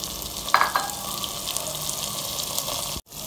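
Tomatoes sizzle and crackle steadily in a pan with browned garlic and ginger for chana curry, with a brief louder splash and stirring scrape early on and a short cut near the end.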